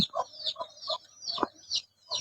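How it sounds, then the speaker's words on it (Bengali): A broody hen sitting on her eggs in a poultry shed clucks close by in a string of short, repeated clucks with brief pauses between them. "আরেকজন মুরগি ডিম নিয়ে বসে আছে"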